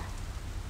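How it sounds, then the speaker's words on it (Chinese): Heavy rain pours down outside during a storm, a dense, steady roar of rainfall with a low rumble, heard alone in a brief burst. "你看现在外面狂风暴雨的"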